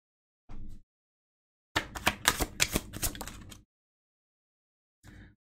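Tarot cards being shuffled, giving a short riffle, then a longer burst of rapid crisp clicking card flutters lasting about two seconds and a final brief riffle, close and fairly quiet with no talking.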